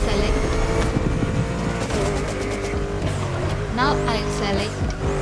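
A Bugatti Divo races in The Crew Motorfest, its engine droning with rising and falling revs and a brief tire squeal, under a continuous layer of game sound and a speaking voice.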